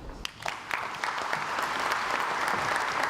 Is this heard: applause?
yes